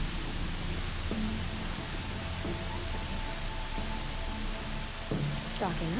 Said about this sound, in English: So much rain.